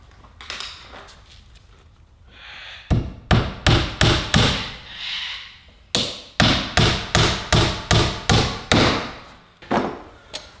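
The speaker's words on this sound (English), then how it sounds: "And you're going to get to see me use a hammer and nail." Hammer driving nails into 42x19 pine for a garage workbench and shelves: loud, close, sharp blows, a few scattered strikes then two rapid runs of about eight evenly spaced hits each.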